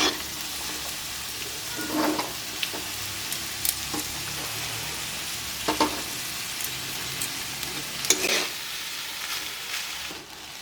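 Beans, capsicum, carrot and rice fry together in ghee in a pan, a constant close sizzle broken by occasional scraping stirs and light clinks, with no voices.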